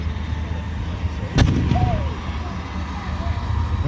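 A tank's 88mm gun fires once at a WWII reenactment at Bovington, a single sharp, loud blast with a brief rumbling tail against steady outdoor crowd and engine noise.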